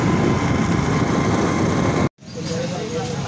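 A motorcycle engine drones during a ride, a loud continuous rumble with wind noise that cuts out abruptly for a moment and then returns more quietly.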